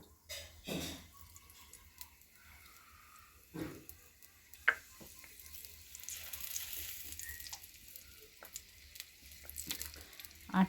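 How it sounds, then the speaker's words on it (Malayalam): Faint, soft sizzling of coconut oil heating in a clay pot, with a few quiet clinks and a low hiss that builds gradually. "കുറച്ച് വെളിച്ചെണ്ണ ഒഴിച്ചു കൊടുക്കാം കേട്ടോ"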